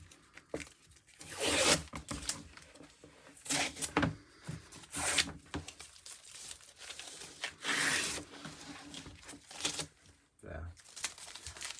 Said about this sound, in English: So let's take off the tape and see how it looks.